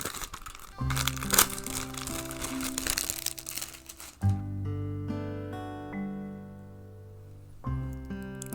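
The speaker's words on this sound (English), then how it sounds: "I got to give you at least one bit of cellophane unwrapping." Cellophane wrapping peeled off a CD case, crackling and crinkling up close in two bursts, with tonal music playing in the background during the quieter middle stretch.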